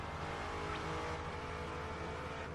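A rival car overtakes in the Project Gotham Racing 4 Xbox 360 racing game, a steady loud engine roar with a brief rising whoosh as it passes, continuous throughout.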